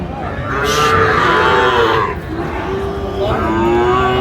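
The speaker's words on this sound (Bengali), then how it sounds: "বেশ সুন্দর গরুগুলো আর ওইটা সামান্য একটা নাম আছে আচ্ছা দেখি একটু ওই গরুটা পাগলা" Sahiwal bull calves at a cattle market in Faridpur, Bangladesh, let out a loud, close, drawn-out moo lasting about two seconds, followed by a second, shorter moo, with market murmur underneath.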